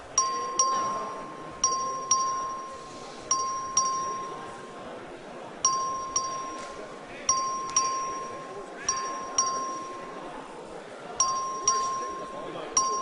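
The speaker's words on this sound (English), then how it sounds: "The clerk will ring the bell." A legislative chamber's electronic voting bell rings in short repeated bursts, several rounds spaced a second or two apart, with a murmur of voices in the background.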